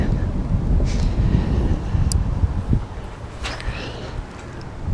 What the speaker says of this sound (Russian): Так, ветер немножко мешает.